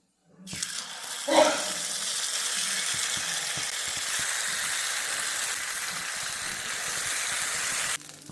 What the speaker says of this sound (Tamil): இப்போ நம்ம பணியாரம் சுட்டுக்கலாம்